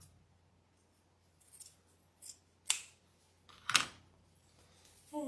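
Scissors snip through the stems of a fall welcome wreath in a few sharp, close cuts, two of them crisp and distinct, separated by quiet pauses.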